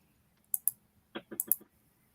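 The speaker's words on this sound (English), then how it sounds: "The keys just have a loud clicker." Loud clicky keys on a laptop keyboard: two sharp high clicks, then a quick cluster of four or five heavier key strikes, close and distinct against a quiet room.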